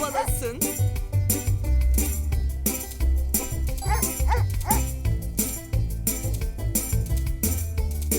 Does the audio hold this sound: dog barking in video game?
yes